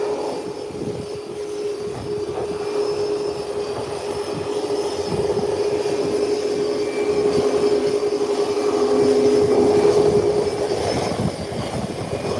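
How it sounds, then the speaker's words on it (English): A Delta airliner taxis slowly along a runway, giving a steady, continuous mechanical rumble with a sustained whine that swells slightly toward the end, heard alone without voices. "the Delta airline is making its 180. Matter of fact, has made its 180. And it's taxiing down the runway to now come back and park."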